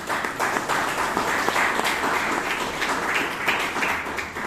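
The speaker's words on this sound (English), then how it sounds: "Please give him a big round of applause." Audience applause after a speech at a Bangalore Toastmasters meeting, a dense, fairly loud wash of clapping from a room of people, holding steady throughout.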